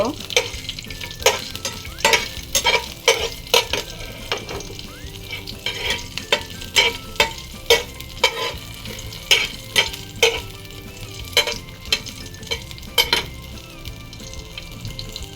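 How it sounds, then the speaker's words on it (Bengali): Cardamom pods, cinnamon sticks, bay leaf and garlic cloves fry in a pan, a steady sizzle broken by regular, sharp scraping strokes of a spatula stirring them, close and clear with no talk. "দুটো সাদা এলাচ দুটো দারচিনি দিয়ে দিব তেজপাতা এখন এটা আমি খুব ভালোভাবে নাড়াচাড়া করব"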